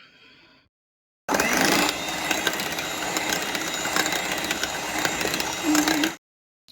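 Melted chocolate is whisked into brownie batter in a bowl, giving a steady scraping, rattling whir for about five seconds. A brief faint voice comes before it.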